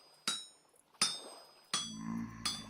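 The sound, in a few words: hammering while smithing in the video game Vintage Story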